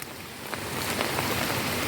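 Heavy rain pours steadily outdoors near a garden chili plant, a dense, even hiss of drops on surfaces with no breaks across the short stretch.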